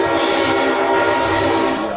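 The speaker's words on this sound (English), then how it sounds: "here comes the train, Todd." A train rolls past, its steady broadband rumble filling the whole stretch, loud and continuous with harmonic tones like a distant horn layered on top.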